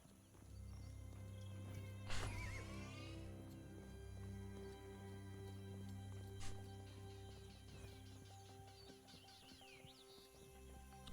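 A horse in the video game Minecraft Legends gives one rising-and-falling whinny about two seconds in, over a steady bed of game music and ambience with faint hoof clops.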